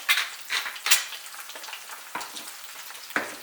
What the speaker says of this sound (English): It's still going to pop because you're cooking an egg in bacon fat